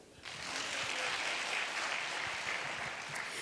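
Applause from a church congregation at a Lunar New Year festival, a dense steady wash of many hands clapping that swells in abruptly and holds loud and even throughout.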